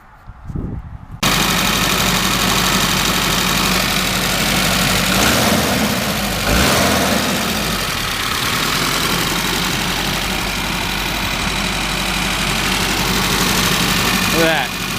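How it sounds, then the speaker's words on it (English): A car engine cranks and catches after a brief quiet moment, then settles into a loud, steady, even idle that runs close by for the rest of the time. "I'm ready to start the motor and make sure everything is good"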